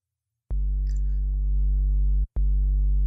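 A deep, buzzy distorted synthesizer sub bass drone, pitched down two octaves in NI Massive for dubstep, holds steadily, cuts out briefly, then returns, loud and alone.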